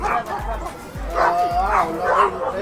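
A shepherd dog barks several times in sharp, irregular yips and bow-wows amid people chattering nearby in an outdoor area with stray dogs.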